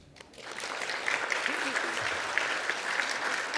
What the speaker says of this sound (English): So you can give a round of applause yourself.